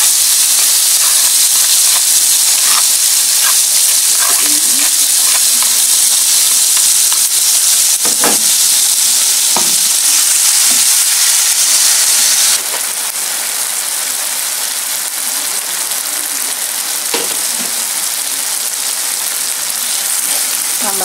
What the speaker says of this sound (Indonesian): ini mau saya goreng ulang dengan sedikit minyak saja